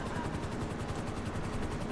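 A police helicopter hovers over a wind farm in a video game, its rotor making a steady rapid chopping pulse under a constant droning hum throughout.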